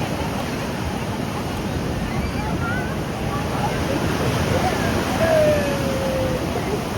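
Sea waves at Ganpatipule beach make a continuous broad roaring wash of surf, with wind buffeting the microphone and faint voices in the background.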